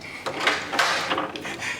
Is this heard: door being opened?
yes